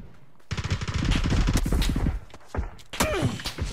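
A grenade goes off in a video game, heavy thudding blasts and gunfire-like bursts crowding together loudly, followed by a sharper second crack and trailing debris.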